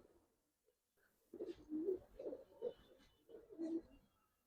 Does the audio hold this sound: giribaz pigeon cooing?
yes